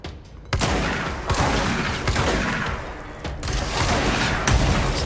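Rapid gunfire bursts from Control, the Remedy shooter game, fill the passage with dense repeated shots and heavy thuds, loud and close, with brief pauses between volleys.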